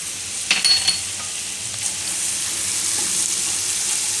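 Green chillies sizzle in hot butter in a pan as pasta prep begins, a steady broadband hiss after a few brief clatters and stirring clicks near the start, no voices.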